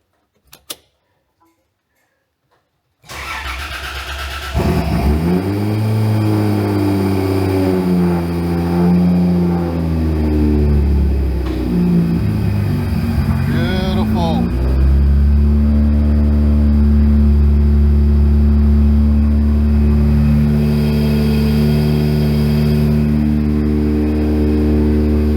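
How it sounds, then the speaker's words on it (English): A car engine cranks and catches, then settles into a steady, rumbling idle with slight rises in pitch, close and loud, no voices. "after getting the car running, idling"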